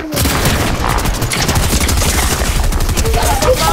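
Rapid SMG fire in the Fortnite video game, loud continuous bursts of fast shots with booms and impacts mixed in, dense and close throughout.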